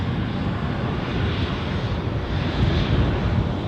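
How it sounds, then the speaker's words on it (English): A jet airliner taxis at speed past an Edinburgh airport viewing spot, its engines giving a steady, loud broadband roar that swells slightly toward the end, with no voices. "How's this for rapid taxiing?"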